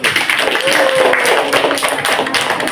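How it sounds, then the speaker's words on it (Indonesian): Classroom applause for a student group: a short burst of brisk, fairly close clapping from a small group, steady and even throughout. "Kita berikan aplaus untuk kelompok 1."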